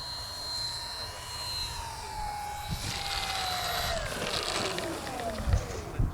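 Twin electric motors of an Avios Twin Otter twin-engine STOL RC plane, flying over grass in gusty wind, whine at shifting pitch, rising and falling as the thrust changes, with steady wind noise underneath.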